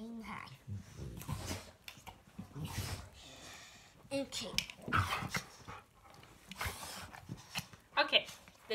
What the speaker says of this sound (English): the dogs are arguing